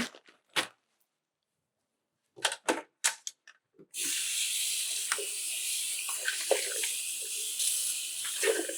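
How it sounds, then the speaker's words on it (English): A few short clicks and taps, then a steady rushing splash of water being poured in that continues without a break to the end. "And now I'm going to put in the water."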